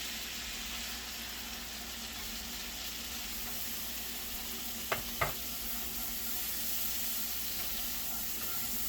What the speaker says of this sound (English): we're just going to saute that down